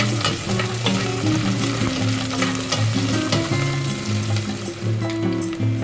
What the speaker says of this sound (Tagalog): Awahin itong garlic ay matunog.